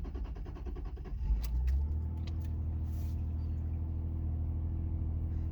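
A high-mileage Subaru Outback with a 3.0 H6 engine, 400,000 km on it, cranks briefly and catches, then settles into a steady, low, close idle rumble.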